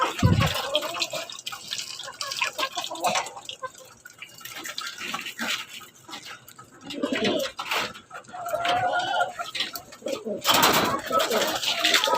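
Pigeons in a loft coo and shuffle nearby at feeding time, with intermittent soft coos, pecking and rustles close by and some background noise.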